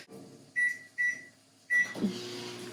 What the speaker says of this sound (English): Throw that in the microwave. Start off with about 15 to 20 seconds.